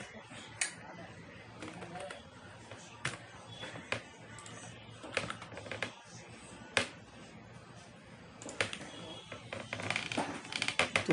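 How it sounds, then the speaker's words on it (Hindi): Typing Marathi barakhadi characters on a computer keyboard, heard as scattered, irregular key clicks and taps at close range, with a faint background hum. "हम यहाँ पे 12 खड़ी टाइप कर रहे हैं"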